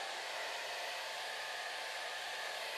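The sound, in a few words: hair dryer blowing over chocolate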